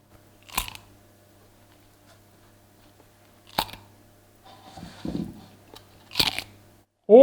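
Foley imitation of ice cream crunching: three sharp, crisp crunch bites spaced a few seconds apart, close to the microphone, with faint rustling and a brief voice sound between and at the end.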